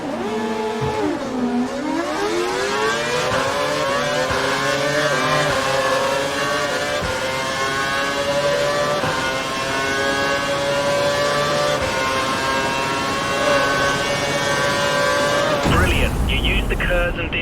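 A Formula 1 race car in the F1 2012 video game screams upward through the gears as it overtakes, a loud sustained engine whine climbing in pitch, ending with a sudden cut and a brief rumble.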